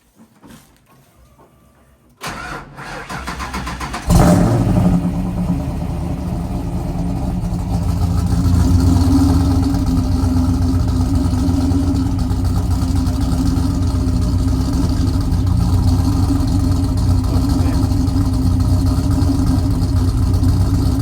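A Ford LTD with BBK long-tube headers, parked under a carport near the doors and unstarted for about two weeks, cranks and catches after a quiet moment, then settles into a loud, steady, deep rumbling idle close by.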